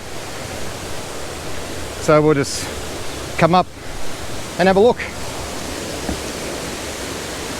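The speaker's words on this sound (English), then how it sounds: "Now we're approaching the second waterfall." Lilydale Falls waterfall in Tasmania gives a steady, broad rushing roar that runs the whole time, with a few short bursts of talk on top.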